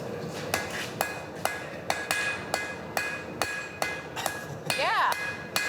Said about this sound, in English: So keep the bowl of the spoon hanging off the anvil.